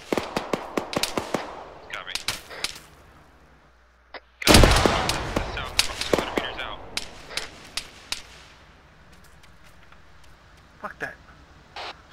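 Several grenade blasts in a tactical shooter game set on a drug bust mission: sharp cracks and one big near explosion with a crackling decay among scattered gunshots, while voices talk between the blasts.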